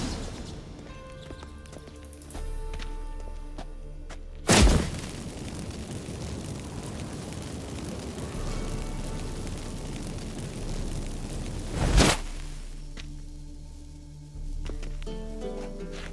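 Magic fireworks from activated incense in The Witcher 3 video game: two sharp, loud bursts a few seconds apart, each ringing out into a rushing, crackling wash between them, over a quieter ambient game background.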